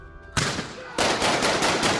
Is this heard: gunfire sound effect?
yes